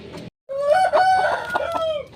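A chicken with a respiratory illness, flu-like and wheezy, gives a close, loud, drawn-out rattling call that wavers in pitch. It starts after a brief noisy burst and gap, with no one talking.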